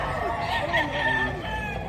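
A rooster crows amid a busy, noisy background with other birds and distant murmuring voices at a chicken sale in Padre Garcia, Batangas, Philippines.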